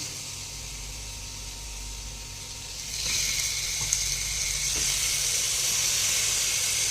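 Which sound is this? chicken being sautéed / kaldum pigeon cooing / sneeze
chicken being sautéed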